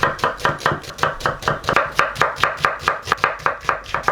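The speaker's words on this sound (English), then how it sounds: "start chopping up our onion." Knife chopping an onion on a board, about twenty quick even strikes in a steady rhythm, close and crisp, with no talking.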